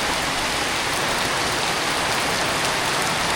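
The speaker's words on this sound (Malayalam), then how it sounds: "സൂപ്പർ മഴ കേട്ടോ, സൂപ്പർ മഴ." Heavy monsoon rain pours down steadily on a morning in Kerala, a loud, dense, unbroken hiss of drops striking surfaces all around, with no voices over it.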